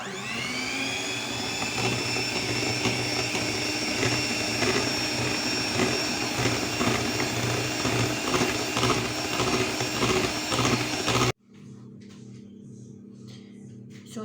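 An electric mixer whips cheese with dissolved gelatin for a cake, giving a loud, steady motor whine close up that cuts off abruptly near the end.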